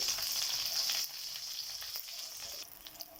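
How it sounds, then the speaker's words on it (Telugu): Sweet corn sticks fry in hot oil with a dense, steady sizzle that is loudest at first, then drops and settles into a softer crackle, easing once more near the end. "ఈ విధంగా ఫ్రై అవుతున్నాయి కదండి"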